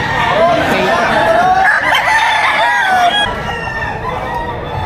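A rooster crows loudly and close at a chicken market in Padre Garcia, Batangas, one long wavering call, with other fowl clucking and people chattering in the background.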